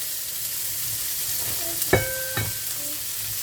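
Green beans cooking in a pan give a soft, steady sizzle, broken by a couple of sharp clinks of a utensil stirring against the pan near the middle.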